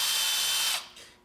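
A cordless drill fitted with a magnetic driver bit whirs steadily at close range, then winds down and briefly spins again before fading out.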